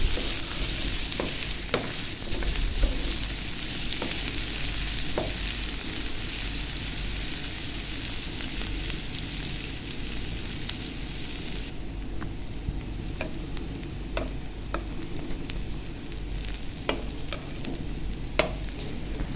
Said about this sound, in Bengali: তো পেঁয়াজটা আগে ভেজে নেব আমি এইভাবে।